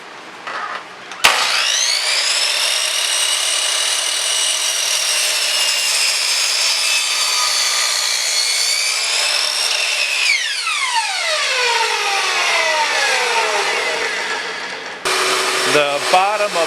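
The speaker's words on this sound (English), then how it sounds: "I've set my combination miter saw to 10 degrees" A combination miter saw set to a 10-degree angle cuts a wooden chair side rail for a patio chair, with a loud sustained whine through the cut, then a descending spin-down as the blade slows.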